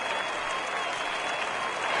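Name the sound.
crowd cheering in video game MLB The Show 19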